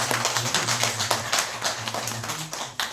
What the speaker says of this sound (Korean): 수고하신 분들이 우리 다시 한번 박수로